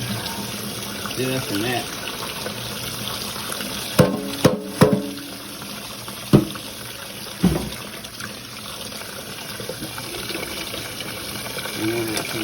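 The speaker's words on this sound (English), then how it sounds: "And then there's some water through here." Cold tap water runs steadily over a partly frozen turkey in a sink, a continuous splashing wash with several sharp knocks and thuds as the bird is handled, while a person speaks briefly.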